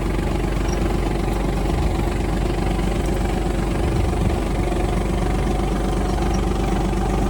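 A Kubota KT-24 mini tractor engine runs at a steady, loud idle-like drone, close and continuous throughout.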